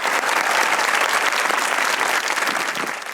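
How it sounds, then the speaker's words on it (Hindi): Studio audience applauding on a Pakistani comedy talk show, a loud, dense and steady burst of clapping lasting about three seconds that tapers off slightly at the end, with no voices over it. "सबा के लिए ताली होनी चाहिए"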